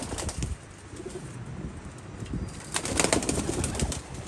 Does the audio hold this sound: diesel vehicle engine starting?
no